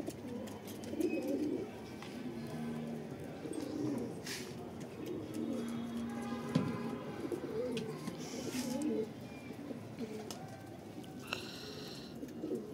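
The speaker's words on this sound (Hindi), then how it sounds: "कुछ कबूतर दोस्तों हमारे ऊपर भी उड़ रहे हैं" Pigeons coo repeatedly in low, soft, rolling calls, nearby and overlapping, with occasional flutters and other faint background noises.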